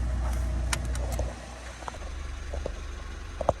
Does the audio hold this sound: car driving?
yes